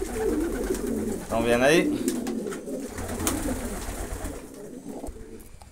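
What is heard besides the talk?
pigeons cooing while feeding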